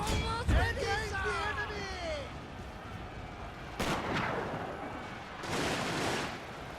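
Artillery fire in the Shogun 2: Fall of the Samurai video game: a loud booming shot early, then two heavier bursts of cannon fire with crackling blasts, over a battlefield din of tonal sweeps and shouting crowd noise.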